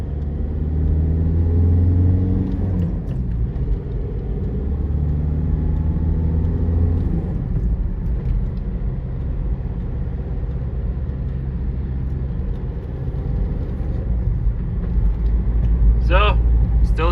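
A VW Touran 1.9 TDI diesel with high mileage drives along, its steady low engine rumble and road noise continuous throughout, with a slight rise in revs near the end; someone talks over it.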